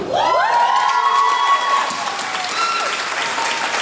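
A crowd at a high school 50th anniversary gala bursts into loud, sustained applause and cheering for a retiring educator, with whoops and shouted voices rising over dense clapping throughout.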